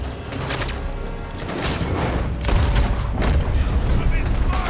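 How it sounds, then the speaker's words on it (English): Gunfire cracks from a building during a Red Dead Redemption II shootout, with repeated close shots and booms over rumbling background noise. A voice shouts between the shots. "They're shooting from that building."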